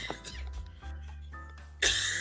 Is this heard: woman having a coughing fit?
yes